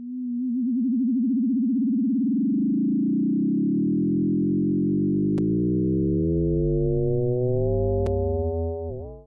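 A steady sine tone is modulated by a slower sine whose rate climbs from sub-audio into the audio range, so a wobbling pitch gives way to a sustained tone with a shifting, growing cluster of sidebands, loud and alone.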